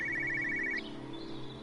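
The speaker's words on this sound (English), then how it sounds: "Sounds like a mobile phone." A mobile phone rings in the video game Everybody's Gone to the Rapture, a steady warbling electronic tone close by that cuts off abruptly partway through, leaving a quiet background hum.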